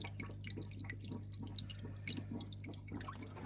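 Water pouring steadily from the waterfall attachment of a motorized pipe filter, a continuous dripping, splashing trickle heard close up over a low constant motor hum, with no talk.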